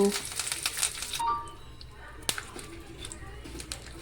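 A sharp burst of crackling sizzle as curry leaves hit hot oil with cumin, mustard seeds, chana dal and dried red chilies, fading into a quieter steady fry with a light clink.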